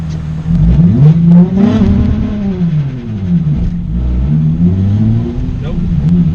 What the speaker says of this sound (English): I hit the brake, it just bogs out. It loses all its power.